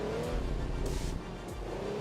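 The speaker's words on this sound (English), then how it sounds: "The drone of the naturally aspirated V6." A steady naturally aspirated V6 engine drone in a racing video game, with slowly shifting pitch humming under faint rushing noise, continuous and moderately loud, without any voices.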